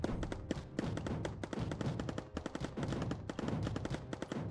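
Units and turrets firing in the strategy game Mindustry: a dense, rapid stream of sharp shot impacts and thuds overlapping at a steady, loud level throughout, with no talking.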